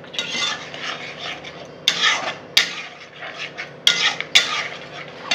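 Spoon scraping and stirring cumin, coriander, Kashmiri chilli and black pepper powders in a pan for katla fish kalia, a steady close rasping with a few sharper clinks of metal against the pan.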